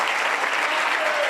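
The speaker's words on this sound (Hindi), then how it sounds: "तालियां आपकी बताएं कितने खुश।" A church congregation applauds in a dense, steady wash of clapping that fills the hall without letting up.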